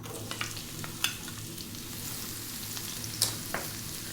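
Chopped onion is added to hot oil with cumin seeds. It sizzles and fries steadily and softly, with occasional sharp clicks and scrapes of stirring.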